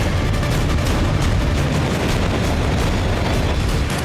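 Dense, continuous gunfire and blasts ring out during a Chinese military exercise, a loud unbroken barrage of rapid shots and booms with no speech.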